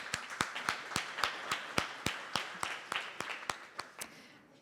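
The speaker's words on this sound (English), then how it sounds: "I'd like for you to give yourselves an applause for being here." A small celebration crowd claps in a sparse, rhythmic pattern, with a few loud nearby hand claps standing out sharply over softer scattered clapping that thins out at the end.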